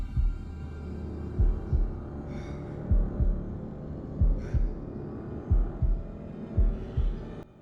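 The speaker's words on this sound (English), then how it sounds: "The heartbeats that thump during the stay calm segments." Video game heartbeat sound effect: deep double-thump heartbeats pulse at a steady, slow rhythm over a low hum, with occasional faint higher whooshes between beats, from The Dark Pictures Anthology: Man of Medan.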